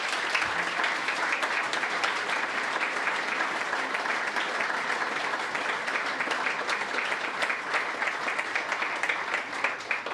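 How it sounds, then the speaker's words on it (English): Big, sustained applause from an event crowd honoring two people who passed, a dense continuous roar of many clapping hands, loud and even for the full duration. "Big round of applause for them two who have passed"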